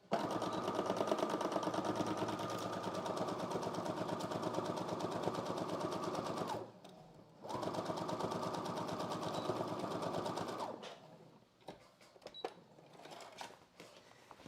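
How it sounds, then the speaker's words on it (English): A sewing machine stitches the inseam of a muslin test garment at a 3/8-inch seam allowance, running in a fast, steady mechanical whir that pauses briefly and then resumes before stopping, leaving faint handling sounds. "And then sew using 3/8 of an inch seam allowance."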